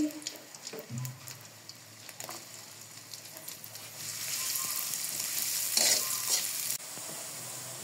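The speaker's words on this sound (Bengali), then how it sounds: "পেঁয়াজ লাল করে ভেজে নিয়েছি" Chopped onions frying in oil in a pan, a steady hiss of sizzling that grows louder and brighter midway, with a few soft stirring scrapes and clinks early on; no talking.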